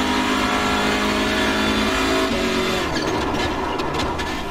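A Hyundai Veloster N TCR race car in iRacing, its engine loud and steady at high revs throughout, holding a constant drone with a slight shift in pitch partway through.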